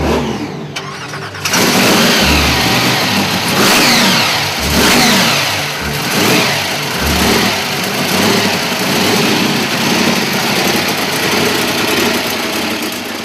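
A loud turbocharged V8 engine fires up and is revved repeatedly at a street car event, deep rising and falling blasts swelling over a constant roar, close by and with no talking.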